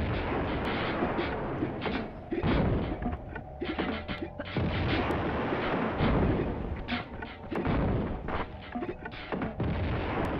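Grenade launcher fire in Tomb Raider 2 sets off a rapid series of loud, booming explosions, one blast after another with short gaps, over a steady game background and no voice.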